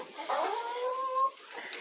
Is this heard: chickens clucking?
yes